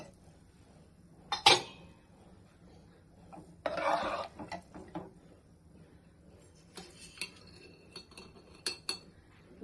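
A spoon stirs cashew paste into paneer gravy in a pot, with a few quiet metallic scrapes and clinks, including a louder scrape early on and soft taps near the end.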